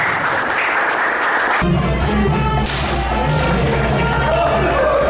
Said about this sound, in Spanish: con el aplauso de todos ustedes. Fuerte las palmas.